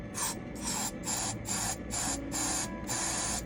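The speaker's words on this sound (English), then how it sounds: "I take my hairspray and I just spray it right into the bottle." Seven quick bursts of hairspray hiss in a steady rhythm, sprayed into a bottle close up, each lasting about a third of a second.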